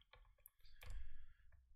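Lock pins clicking softly while a lock is picked, a few faint, scattered ticks with some quiet rustle and handling noise in between.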